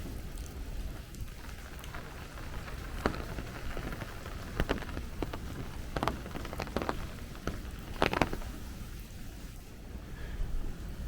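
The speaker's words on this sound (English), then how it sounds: "You can hear that rain coming off the scaffolding." Heavy rain drips off scaffolding over a Brooklyn street, a dense steady patter with scattered sharper splats and drops landing close by, under a constant wash of falling water and faint wind.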